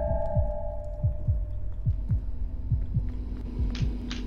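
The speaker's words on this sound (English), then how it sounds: "I'm hearing heartbeats." A heartbeat sound effect in the horror game Forewarned thumps as steady low pulses, about two per second, under a droning hum and faint tonal game ambience, with no talking.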